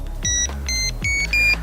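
Electronic tones from a New Direction K9 fishing bite alarm, four short close beeps in quick succession, each a bright pitched chirp, with one ending a little louder.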